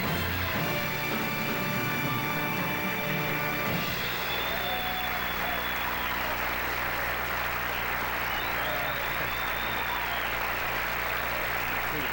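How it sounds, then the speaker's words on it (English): Studio audience applause on the Dick Cavett talk show, sustained dense clapping filling the room; band music plays over it at first before the clapping continues alone. "Listen, don't applaud too long."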